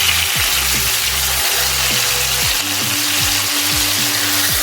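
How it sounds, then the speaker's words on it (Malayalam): Tandoori-marinated chicken fries in a little oil in a frying pan, giving a loud, continuous, close sizzle with a low steady hum beneath it and no speech. "ഈ പാനിലേക്ക് ഞാൻ എടുത്ത് വെച്ചിരിക്കുന്ന ചിക്കൻ ഇട്ട് കൊടുക്കുകയാണ്"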